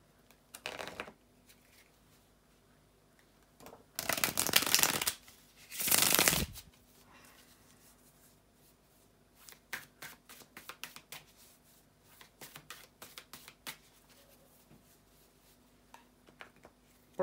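Tarot cards are shuffled by hand in quiet, close riffles: two loud bursts early on, then a run of lighter flicks and taps as the deck is squared.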